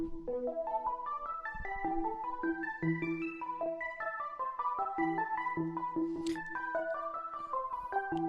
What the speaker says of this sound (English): I added in this little pluck melody